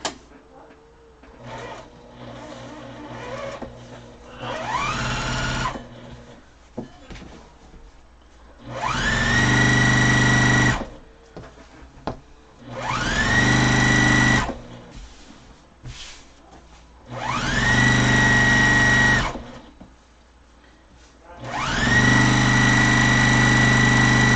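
A sewing machine back stitching the corner of a pillow runs in four loud bursts of a few seconds each, separated by quieter pauses filled with handling noise.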